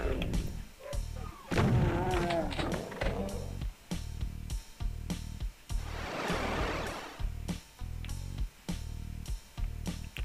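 Repeated heavy booming blasts of a shotgun firing in the DOOM II video game, loud and close, coming in a steady run of shots with brief gaps between them.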